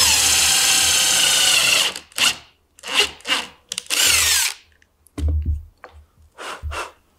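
A power drill bores a row of holes into wood for a mortise on a handmade stool, with a sustained whine and then several short separate bursts, each a close, loud drilling pass with pauses between.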